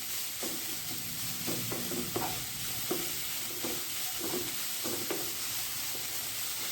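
Carrots being sautéed in a pan for gajar kheer, with a soft steady sizzle under a constant hiss and repeated stirring scrapes at an irregular rhythm, close by and moderately quiet.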